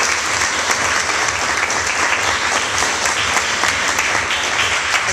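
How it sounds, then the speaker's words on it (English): An audience at a graduation promotion ceremony claps steadily and loudly for a student's special recognition, a dense, even wash of applause from a large crowd that holds for several seconds with no voices over it. "That deserves applause."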